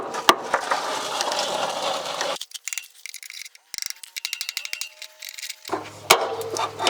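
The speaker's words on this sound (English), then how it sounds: "I'm just going to take my hammer and try and hammer them down." Several sharp hammer blows knocking down plastic tabs during a GM Silverado/Sierra parking brake cable replacement, separated by pauses and bursts of rustling and handling noise close to the microphone.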